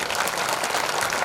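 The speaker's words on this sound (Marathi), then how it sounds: "एकदा टाळी वाजव जोरात." Loud crowd clapping at an outdoor public kirtan gathering, dense and continuous with slight rhythmic swells, no speech over it.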